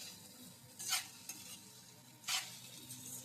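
Food with red chilli powder stirred in a pan, two soft scraping sweeps of a spoon over a faint, low sizzle, quiet and close with no voices.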